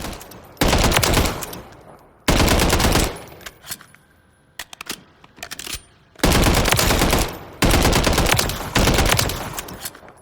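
Bren 2 BR rifle fire in Call of Duty Modern Warfare III: loud, close full-auto bursts of about a second each, broken by short pauses and a scattered cluster of single shots, with each burst trailing off in a brief echo.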